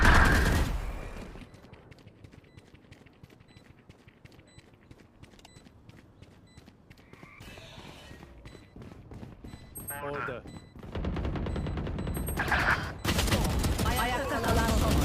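Rapid gunfire from the tactical shooter game Valorant, bursts of crisp repeated shots and clicks between quieter stretches, with people talking over parts of it.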